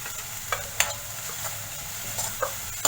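A spiced potato mixture with salt, red chilli powder and cumin seeds sizzling quietly in a pan while a spoon stirs it, with a few sharp scrapes and clinks over the steady soft frying hiss.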